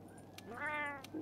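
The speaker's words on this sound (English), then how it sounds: "Meow. Meow. Meow." A Palico cat in the video game Monster Hunter World gives one quiet, rising and falling meow, soft and close, over low game ambience with a couple of faint clicks around it.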